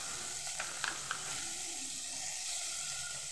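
Carrots frying in oil in a kadai alongside capsicum and beans, a steady sizzle throughout with a few quick clacks and scrapes early on.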